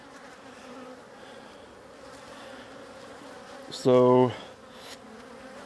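Honeybees hum softly around an open beehive in a bee yard, a low continuous drone with one louder bee passing close by for a moment and a brief spoken word.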